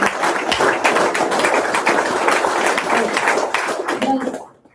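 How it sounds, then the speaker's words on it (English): A roomful of students claps loudly at a live entrepreneurship session, dense steady applause for several seconds before stopping abruptly, with a voice briefly audible near the end. "Boys, give a grand applause."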